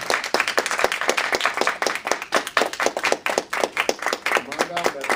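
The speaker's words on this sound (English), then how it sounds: "let's give her a round of applause." An audience claps steadily and enthusiastically for several seconds, a dense patter of many hands close by.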